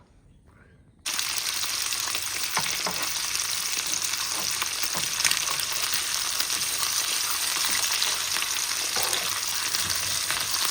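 Lamb neck chops go into a hot pan and set off a sudden loud, steady frying sizzle that carries on evenly with faint crackles close by, following a brief quiet start.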